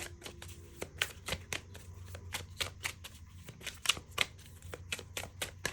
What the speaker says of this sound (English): You see how smooth this shuffle is too?